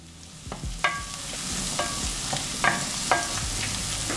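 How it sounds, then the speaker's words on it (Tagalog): Chopped onions sauté in a pan for butter chicken until caramelized, a steady close sizzle broken by spatula clinks and scrapes about every half second, with no talking. "Gisahin nyo lang maigi hanggang sa mag-caramelize yung onion."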